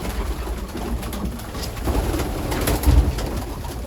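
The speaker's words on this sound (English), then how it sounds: "this is gonna be quite loud because there's a lot of birds on this loft" A flock of pigeons in a loft cooing together in a dense, continuous murmur, close and fairly loud, with a slight rise in activity near the end.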